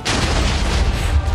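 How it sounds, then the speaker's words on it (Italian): A series of explosions in a video game forms a dense, booming rumble of overlapping blasts that holds loud and close for just over a second. "quella serie di esplosioni non mi è piaciuta per nulla"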